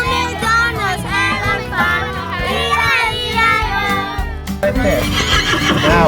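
A horse neighs and whinnies at an outdoor children's learning-day event in DeSoto County, its rising and falling calls close and loud amid adults talking and children's voices.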